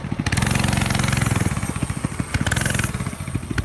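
A cartoon motorcycle engine revs loudly with rapid, rhythmic pulsing as the bike pulls away, holding strong and steady before the beats thin out toward the end.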